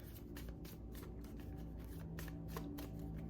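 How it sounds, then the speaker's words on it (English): Tarot cards being shuffled by hand, a soft continuous riffling and flicking close to the microphone, quiet with no talking. "Let me shuffle, because I just want one at a time."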